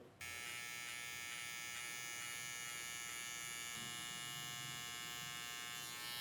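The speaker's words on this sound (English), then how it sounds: "I'm going to grab the trimmer and I'm going to create my 0 line" An electric hair trimmer cuts a zero line around the ear during a curly mullet haircut, giving a continuous close, high-pitched buzz with faint shifts in tone as the blade works through the hair.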